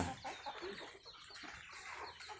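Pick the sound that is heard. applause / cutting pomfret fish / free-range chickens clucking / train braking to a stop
free-range chickens clucking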